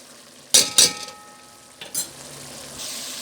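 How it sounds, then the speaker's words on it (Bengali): Long beans tossed in a pan with oil and ground coriander, giving two sharp metallic scrapes early on, then softer stirring clatter over a faint steady sizzle; no voices. "এখন আমি বরবটিটা দিয়ে একটু কষাই নেব"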